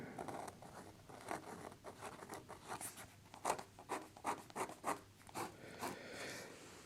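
A LAMY AL-star fountain pen in copper orange scratching across paper, with a series of short, close strokes in an irregular rhythm, quiet but distinct, with no talking.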